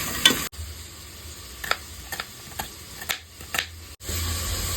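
Carrots and beans sauté in a pan, a soft sizzle broken by several sharp stirring scrapes and clicks at irregular intervals, close and moderately quiet, with no talking.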